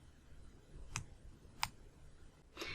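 A computer mouse clicks three times while confirming OK in Outlook, short crisp clicks spaced under a second apart, close but faint over a low background hiss.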